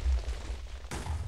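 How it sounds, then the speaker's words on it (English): An ICBM missile from a Minecraft missiles mod blows up with a deep, rumbling boom, followed by a second abrupt crack of blast noise and continuing low rumble, loud and close. "That was quite a big explosion."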